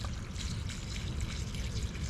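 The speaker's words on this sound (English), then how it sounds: "I'm gonna water these in real good with this fertilizer" Homemade liquid fertilizer trickles and splashes steadily onto garden plants during watering, a soft continuous stream close by with no talking.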